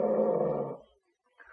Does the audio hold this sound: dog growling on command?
yes